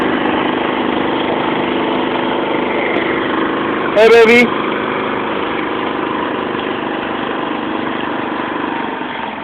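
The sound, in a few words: motorized boat engine on river rapids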